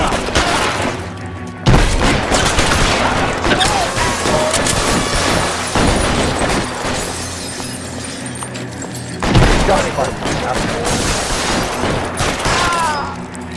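Heavy gunfire in L.A. Noire, with dense volleys of shots and booming impacts that run continuously for over ten seconds, punctuated by two louder blasts and mixed with tinkling debris.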